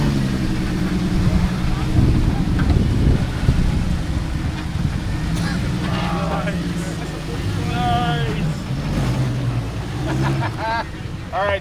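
An off-road vehicle grinds up a steep rock slope on Hell's Revenge, its engine a loud, steady rumble throughout, with voices and shouts over it in the latter half.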